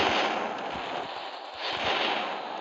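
Cannons fire in a Roblox pirate battle game, loud, dense bursts of blasts and booms running together with no speech.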